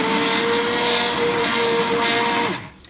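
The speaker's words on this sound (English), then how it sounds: "I'm going to take my immersion blender" An immersion blender whirs steadily as it purées mangoes for jam, a loud, continuous motor whine with a steady pitch that runs for about two and a half seconds before it winds down and cuts off.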